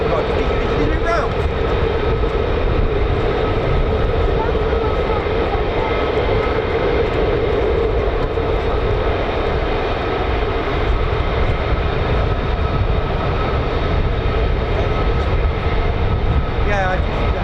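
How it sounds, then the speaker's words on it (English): F-35 fighter jets fly at RAF Lakenheath, home of the 48th Fighter Wing, with a loud, steady jet-engine roar that fills the whole stretch without letting up. "More F-35s over here."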